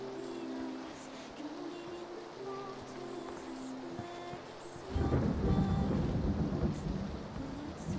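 Rain falls in PlayerUnknown's Battlegrounds as a steady hiss that swells into a louder, heavier downpour halfway through.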